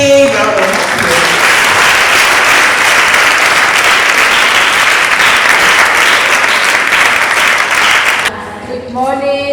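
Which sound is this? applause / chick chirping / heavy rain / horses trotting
applause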